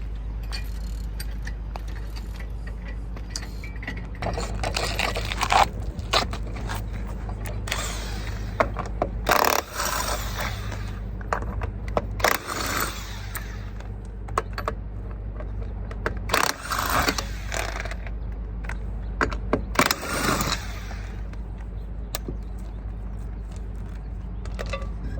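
Metallic clanks, scrapes and tool rattles come and go in bursts over a low steady hum as a wheel is pulled off a rusty hot rod at a drag racing event.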